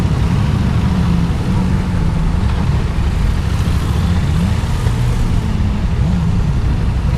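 Yamaha MT-07 motorcycle engine running steadily with a dense, loud low rumble that holds through the whole stretch, with slight rises in pitch where the throttle is blipped, amid outdoor noise at an event.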